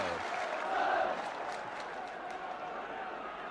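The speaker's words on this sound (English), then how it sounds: "And the crowd still buzzing." Football crowd at a Tottenham Hotspur match murmuring and buzzing in a broad, distant roar that swells briefly near the start and then settles to a steady hum, with no clear speech on top.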